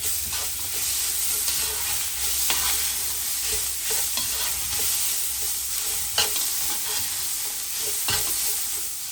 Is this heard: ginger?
yes